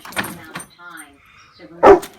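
Dogs let out a few sharp, playful barks and yips with whimpering sounds in between, the last bark loudest and close.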